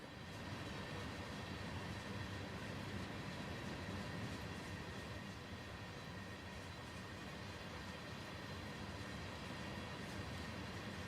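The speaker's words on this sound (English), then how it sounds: "There's the train." Train passing on the Tharandter Rampe line between Dresden and Chemnitz in Train Sim World 2, a steady loud rumble of rail wagons with faint wheel clatter that holds for the whole stretch, no talk.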